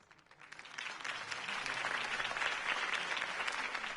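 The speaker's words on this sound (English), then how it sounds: "could have heard that applause" A crowd in a Batman video game bursts into sustained applause after a campaign speech, many hands clapping densely, building quickly in the first second and then holding steady and loud throughout.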